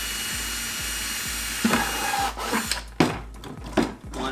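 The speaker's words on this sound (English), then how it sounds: "So let me drill my holes." A power drill whirs steadily and bites into a plastic 5-gallon bucket, with rough grinding and scraping bursts as the bit cuts through, close up.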